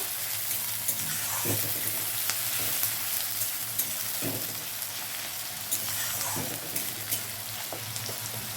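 Chopped onion frying in a pan while being stirred, a steady soft sizzle with occasional scraping strokes, fairly quiet and close, no voices.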